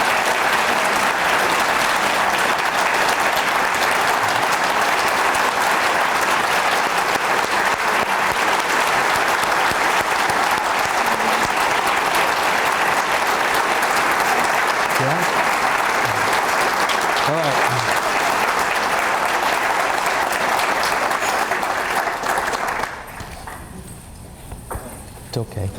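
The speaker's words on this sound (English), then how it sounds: "show a round of support, a loud, strong clap support" Loud, sustained applause from a panel event audience, a thick wall of clapping that holds steady for over twenty seconds before dropping off abruptly near the end, with occasional voices beneath it.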